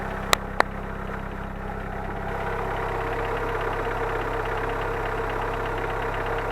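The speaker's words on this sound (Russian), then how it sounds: "Вот такой звук гидриков." A warmed-up car engine with 263,000 km on it idles steadily, with a faint, quick ticking from worn hydraulic lifters running through the even hum. Two sharp clicks sound near the start.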